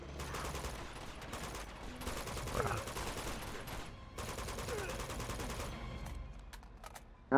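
M4 rifle fire from Uncharted 2 chatters in fast, dense automatic bursts, loud and nearly continuous, with a brief lull near the middle before another sustained stream of shots.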